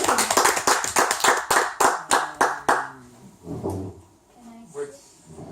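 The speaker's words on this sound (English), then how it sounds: "First, an applause for the presentation." A small audience claps by hand for about three seconds after a thesis proposal presentation at Wageningen University, a quick burst of close, sharp claps that stops as a person starts speaking.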